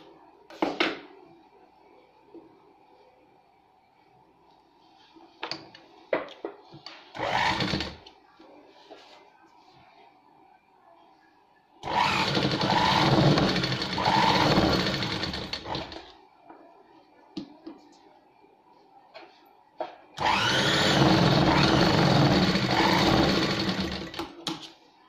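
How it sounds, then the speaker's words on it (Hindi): A sewing machine stitches a straight seam on a fabric baby bonnet in two loud, steady bursts of rapid whirring, with quieter fabric handling and a few short stitches in between. "और एक सीधी सिलाई लगाएंगे यहाँ तक,"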